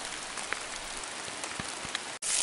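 Steady rain falls outdoors on a hot, humid day while a wooden tent deck frame is being built, a dense even patter with a few sharper drops standing out, close and continuous, ending with a brief break and a brighter burst.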